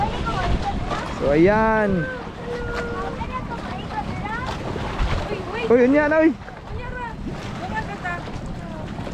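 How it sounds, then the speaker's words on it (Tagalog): Strong wind buffets a microphone outdoors at Bantayan in Cordova, Cebu, a steady low rumble running throughout beneath a woman's speech and exclamations. "Lakas ng hangin, no?"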